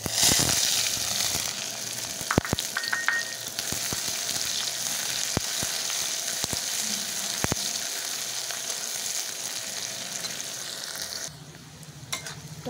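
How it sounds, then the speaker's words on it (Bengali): Onion and green chili sizzle and fry in hot oil in a small pan with a bay leaf, a steady close crackle with a few sharp utensil clicks and stirring knocks, ending in a quieter tail. "এবার দিয়ে দেব পেঁয়াজ আর কাঁচা লঙ্কা"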